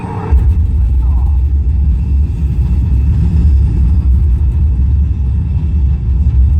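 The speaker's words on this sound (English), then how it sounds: "We have main engine start." A heavy, continuous low rumble of the simulated rocket launch on Epcot's Mission Space ride at Walt Disney World, loud and steady throughout.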